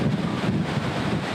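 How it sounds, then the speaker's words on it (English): Strong gusting wind on the windward side of Oahu during a damaging windstorm, a loud, steady roar buffeting the microphone without a break. "It's crazy windy."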